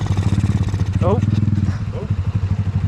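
A Honda C90 motorcycle's small single-cylinder engine putters in a loud close pulsing beat as it cuts back in after stalling, with someone talking briefly over it.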